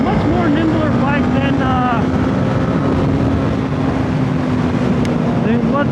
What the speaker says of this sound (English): I'm just twisting the throttle a little bit, and Sookie just wants to go.